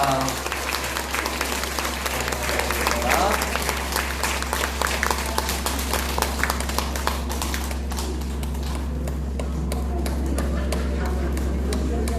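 A church congregation applauds to welcome a guest speaker, sustained brisk clapping from a crowd over a low steady hum, tapering slightly near the end.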